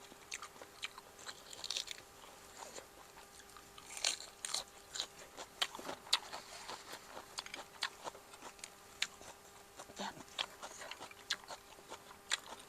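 Close, wet chewing and biting of blanched mussels dipped in spicy sauce, a steady run of soft crunches and smacks with no talking.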